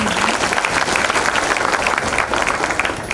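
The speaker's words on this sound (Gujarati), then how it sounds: "ખૂબ બધી તાળીઓ એક વખત ફરીથી" A loud, dense round of applause from the audience at a music show, many hands clapping together in a steady sustained burst from start to finish.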